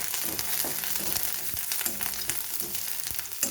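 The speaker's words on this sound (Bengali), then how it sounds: "আমি কিছুটা আদা আদা গ্রেট করে রেখেছি সেইটাকে ভেজে নেব যাতে কাঁচা গন্ধটা না থাকে" Grated ginger fries in hot oil with a dense, continuous crackling sizzle, close and fairly loud, dotted with small pops and occasional stirring taps throughout.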